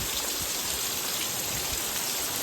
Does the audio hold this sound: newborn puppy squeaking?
no